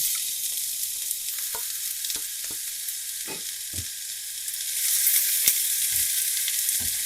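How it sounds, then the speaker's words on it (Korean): Onions sauté in preheated oil in a pan, a steady bright sizzle with occasional clicks and stirring taps, growing slightly louder near the end. "오일을 두르고 예열이 되면 양파를 넣고 볶다가 투명해지면서 갈색빛이 돌 때 버터를 넣어줄 거예요"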